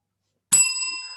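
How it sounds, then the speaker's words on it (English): A handheld bell gives one bright, sharp strike, and its ring fades slowly in the quiet afterward. "I'm ringing myself. I'm fast under. I got the bell right here."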